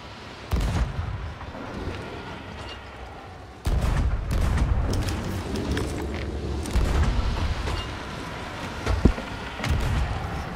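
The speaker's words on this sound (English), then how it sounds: "Sloop's on the other side of us, shooting us." Heavy ship cannons boom repeatedly during a Sea of Thieves battle against a sloop. The loud, close blasts come at irregular intervals over a rumbling background, with a sharp crack near the end.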